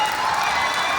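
Sustained applause and cheering from an audience filling a hall at an education event in Gyan Bhawan, Patna, a dense steady wash of clapping with no gaps.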